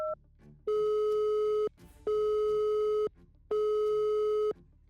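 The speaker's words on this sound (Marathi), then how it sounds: "तिकडे गेल्यावर तिने पुन्हा युगाला फोन करून पाहिला." Repeating telephone busy-style tone from a call to a switched-off phone: three long steady beeps separated by short gaps, clear and alone with no talk.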